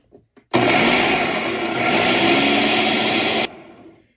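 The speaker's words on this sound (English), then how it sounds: "I'm just going to pulse it up a little bit" A food processor pulses biscuit ingredients in one loud, steady whir of about three seconds that cuts off abruptly, followed by a faint tail of the motor winding down.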